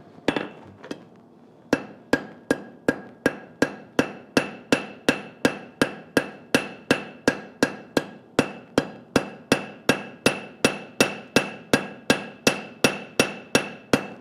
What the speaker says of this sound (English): So it's a big, wide cross peen. So I'll use that.